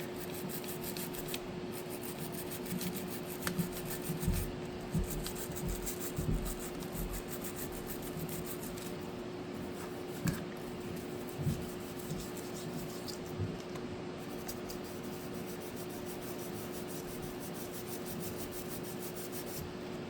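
Brush and rag scrubbing dirt from around the buttons of a Wii remote, a faint, continuous soft rubbing with small scratchy taps and bumps scattered throughout, close and quiet.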